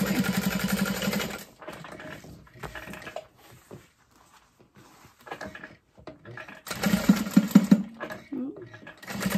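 A sewing machine top stitches a messenger bag in two bursts of steady whirring, one at the start and a louder one near the end, with quiet talk and handling noises in between.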